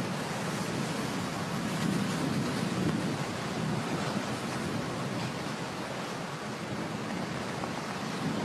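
Wind gusts sweep across a golf course during the final round of a professional women's tournament, a steady broadband rushing roar that holds strongly throughout with no voices.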